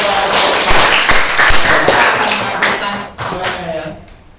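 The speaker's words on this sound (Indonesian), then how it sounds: "Beri tepuk tangan buat kita." A burst of clapping from a group in a classroom lesson, loud and close, thinning out toward the end.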